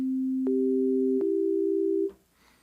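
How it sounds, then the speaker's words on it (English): A pure steady synthesizer sine wave tone plays alone, shifting once to a slightly higher pitch with small clicks at each change, then cutting off. "that's what we have here, just a basic sine wave. The sine wave is the most pure tone."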